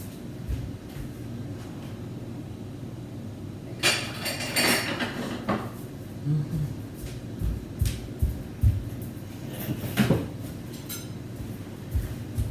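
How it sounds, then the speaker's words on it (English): A spoon clinks and scrapes against a pot while foam is skimmed off violet jelly, a few scattered metallic taps over a steady low kitchen hum. "now I'm going to skim off a little of the top so we don't have any foam"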